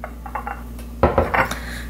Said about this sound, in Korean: 위에다가 그릇 같은 데다가 물 담아서 이렇게 올려 놓으시면 되거든요